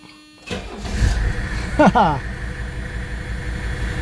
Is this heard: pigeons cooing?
no